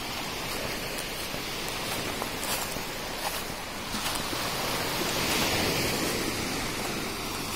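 Large ocean waves at Kastela beach, a continuous broad roar of surf mixed with wind buffeting the microphone, swelling slightly louder toward the end, with no voices.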